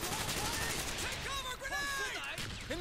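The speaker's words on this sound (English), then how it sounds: "Those are our own mortars." Mortar fire and gunfire in the Vietnam campaign of Call of Duty Black Ops, with dense continuous shooting and blasts under loud game effects and voices talking throughout.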